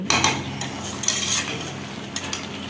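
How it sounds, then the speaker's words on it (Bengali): Chicken pieces with garlic and potatoes stir-fried in a pot for a yogurt chicken dish, a steady close scrape and clatter of a spatula against metal with soft sizzling beneath, no talk. "এবার এটা দিয়ে কিছুক্ষণ চিকেনটাকে কষিয়ে নিতে হবে"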